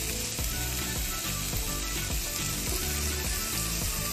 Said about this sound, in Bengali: হালকাই ভাজবো, খুব একটা ভালো করে ভাজবো না।